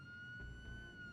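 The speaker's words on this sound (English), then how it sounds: "As the sirens grew louder" A police siren in the Jenny LeClue video game, a steady wailing tone that slowly grows louder over a low rumble, heard alone and fairly faint.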